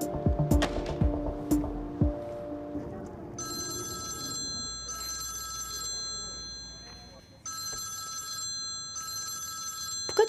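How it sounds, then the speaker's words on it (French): A telephone rings in a quiet indoor room during a South African drama series, sounding in four repeated electronic bursts of steady bright tones. A low hum and faint movement run beneath it, with busier indistinct sound in the first two seconds. "Pourquoi tu n'éteins pas simplement le téléphone?"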